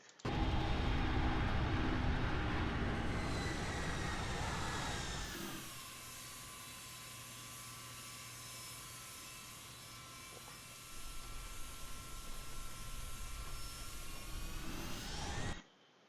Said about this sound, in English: Okay, we're on the runway. We're rolling at this point.